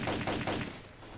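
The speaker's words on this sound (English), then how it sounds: "Being shot by both directions." Gunfire coming from two directions in S.T.A.L.K.E.R.: Clear Sky, a quick string of three or four loud, close shots in a brief burst with a fading tail.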